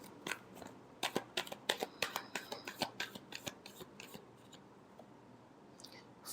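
Tarot cards being shuffled by hand, a rapid run of close, crisp papery riffles and flicks that slows and fades into quiet, soft handling.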